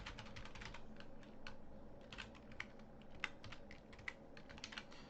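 Typing on a computer keyboard, a quiet run of rapid, uneven key clicks with a few sharper taps, close and alone without talk.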